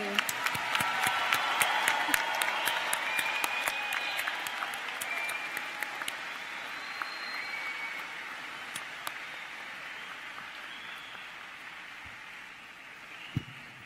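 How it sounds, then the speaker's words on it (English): Sustained applause fills a medical school commencement hall for the graduating class, a broad rainlike wash of clapping that gradually thins, with sharp individual claps standing out and some murmuring beneath. "Let's give another round of applause for the class of 2018."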